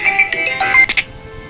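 A phone rings with an incoming call, its electronic ringtone melody loud and close, playing a quick run of bright tones for about a second before stopping.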